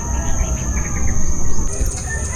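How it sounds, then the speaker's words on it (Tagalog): Many birds chirping and calling near a potato field in the Philippines, a busy layer of short tweets over a low outdoor rumble, close and fairly loud for a brief stretch. "Ang dami ng ibon."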